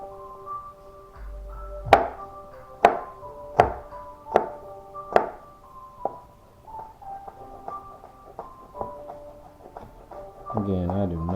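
Garlic being chopped with a knife on a cutting board in a home kitchen, about five sharp, evenly spaced chops followed by quieter scattered taps and light kitchen clatter.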